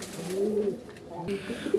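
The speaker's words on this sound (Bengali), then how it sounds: "দেখেন কতটা মাধুর্যময় এবং কতটা কোয়ালিটি সম্পন্ন একজোড়া রেসার কবুতর" A pair of racer pigeons coos softly in short, low murmuring phrases, close but faint, with a brief rustle partway through.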